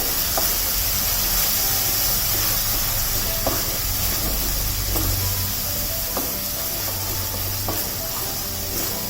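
Ground green chilli paste sautéing in a pan over a low gas flame, a steady broadband hiss and sizzle with occasional light clicks of stirring, continuous and fairly close, no talking.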